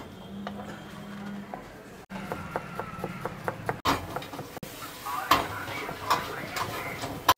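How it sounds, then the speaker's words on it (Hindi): A knife finely chopping cabbage and carrot for chowmein-style cutting on a board, in a run of quick, evenly spaced taps that comes and goes with short pauses, under low kitchen background noise. "यहाँ पे आप देख सकते हैं जो चाउमीन की कटिंग है, पत्ता गोभी और गाजर, इसको भी हम बिल्कुल बारीक काट रहे हैं।"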